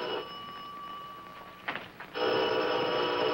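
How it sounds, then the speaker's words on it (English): A telephone bell rings in a business office, with a steady tone that cuts off partway through, then a short burst of noise and a louder, denser ringing or buzzing that fills the rest. "Aren't you going to answer the phone?"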